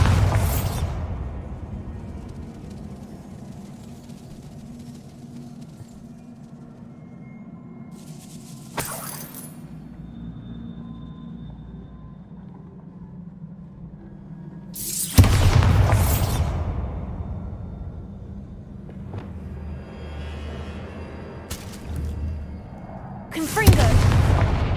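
Magic spell explosions in a video game: three loud booming blasts spaced several seconds apart, each with a sharp crack and a long rumbling tail, over a low background drone.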